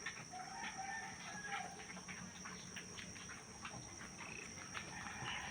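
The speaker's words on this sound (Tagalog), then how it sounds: "yung inahin namin, buntis na po siya" Hens and a rooster cluck and call around a backyard coop with a new pen overgrown with grass, steady soft clucks under faint insect buzz, including a pregnant mother hen kept there.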